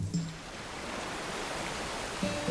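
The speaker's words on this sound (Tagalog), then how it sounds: "habang naglalakad kami, naririnig ko na yung tubig ng waterfalls" Steady rushing water from waterfalls near a cave river, a constant broadband wash with brief faint tonal sounds at the start and end.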